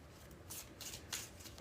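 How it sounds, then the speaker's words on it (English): A tarot card deck gets a bridge shuffle, with several quick riffling bursts of cards rasping together, close and soft, and no speech over them. "when I do the bridge shuffle, after I do the 3 shuffles"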